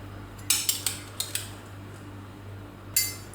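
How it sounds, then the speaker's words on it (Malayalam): A metal vessel is lifted off a pressure cooker holding mandi rice, giving a quick run of five or six sharp metallic clinks, then one more clank a moment later. "നമുക്ക് ഇതിൻ്റെ മുകളിൽ നിന്ന് ഈ ഒരു പാത്രം എടുത്ത് മാറ്റാം"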